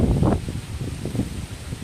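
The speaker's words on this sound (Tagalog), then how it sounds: "Napakalakas ng hangin ngayon." Strong wind buffets the microphone with low rumbling gusts and rustling, loud and continuous for a couple of seconds, no voices.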